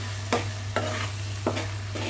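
A spoon stirs chicken gravy curry in a pan after salt is added, giving four evenly spaced scraping strokes over a low steady simmering sizzle, close and alone without any talking.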